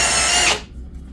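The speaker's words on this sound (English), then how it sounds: "So I may have to drill them out a little bit, but then we can riv nut straight into the plastic." A power drill bores holes through the plastic bodywork of a barn-find Suzuki Katana with pop-up headlights, a loud, close whine lasting about half a second before cutting off to near silence.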